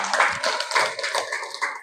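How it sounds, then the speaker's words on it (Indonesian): Classroom applause for a student during an Indonesian religious-studies lesson: a dense, steady patter of many hands clapping at once, fairly close and continuing for about two seconds. "Tepuk tangan dulu untuk Clara."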